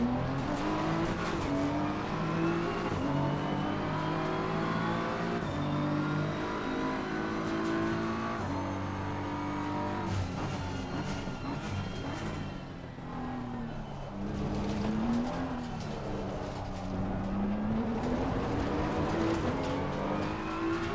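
A race car engine in the Assetto Corsa Competizione racing game roars continuously, revving up and down through gear changes with a brief dip midway, loud and close throughout.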